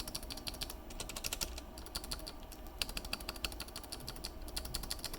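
Typing on a mechanical keyboard fitted with 3D printed stabilizers: a quiet, steady run of close, crisp key clacks with no talking.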